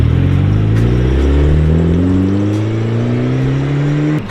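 A Mazda FC RX7 with a fully built 13B rotary engine pulls away, its loud, close rotary note rising steadily in pitch through the gears as it accelerates, with no talk over it.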